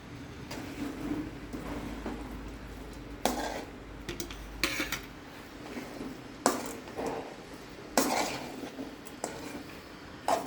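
Dry potato bhaji (farali suki bhaji) being mixed in a pan, with repeated metallic spoon scrapes and clanks against the pan at an irregular rhythm, close and fairly loud.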